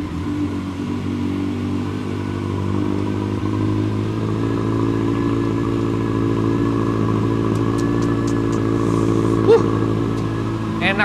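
A Honda CB1300 Super Bol d'Or SP inline four-cylinder motorcycle idles after a cold start, a steady close engine drone with a slight rise near the end and a few clicks over it.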